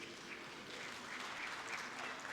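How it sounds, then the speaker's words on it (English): An audience at a Tanzania–Uganda business forum applauds with dense, steady clapping from a crowd, sustained and even throughout, somewhat distant and moderately quiet. "Can we give him half claps, please?"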